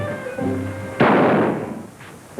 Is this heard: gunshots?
yes